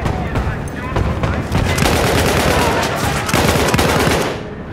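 Battlefield 1 gunfire rattles in rapid, continuous bursts of shots, loud and close, with brief pauses and game combat noise around it.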